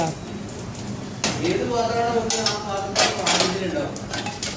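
Metal pots being placed on a scale in a Kozhikode halwa kitchen, ringing clanks and clinks scattered across a few seconds, with a resonant metallic tone and voices talking nearby.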